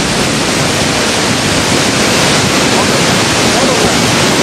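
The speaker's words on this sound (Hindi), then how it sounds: "जिस रफ्तार के साथ भागीरथी का पानी बह रहा है" Floodwaters of the Bhagirathi river rush in a steady, loud, broadband roar that fills the whole clip without pause, with no voices over it.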